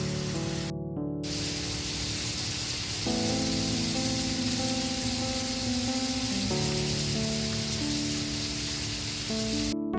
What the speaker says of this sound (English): I am now sautéing the tofu,